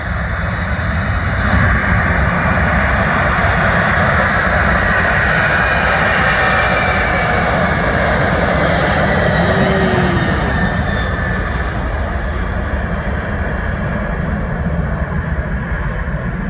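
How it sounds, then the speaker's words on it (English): Heavy jet engine roar from a Boeing 747 Dreamlifter, an enlarged cargo conversion, rolling down the runway at Anchorage; a loud, steady broadband rumble holds throughout with no talk. "this Dreamlifter kind of overstuffed 747 rolling down the runway here in Anchorage"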